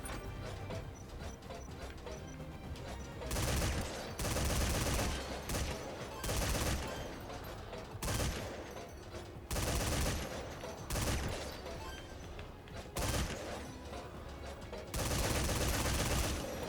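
Gunfire and mechanical clatter from turrets in the video game Metal Gear Survive, with loud bursts of shooting repeating over a steady busy game soundscape.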